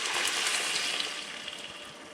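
Wine, two-thirds of a cup, poured into a simmering pan, giving a steady close liquid splash and sizzle that runs for about two seconds and eases off slightly toward the end.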